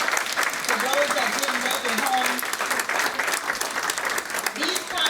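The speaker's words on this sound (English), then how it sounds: "if everybody can give them a round of applause, all of our veterans" An audience at a Veterans Day breakfast applauds veterans, continuous clapping filling the room while a voice talks over it.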